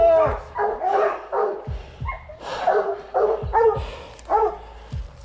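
Hunting hounds bark and bay repeatedly in steep British Columbia bear country, loud, close and overlapping in an uneven rhythm, with a few yips and whimpers between the barks.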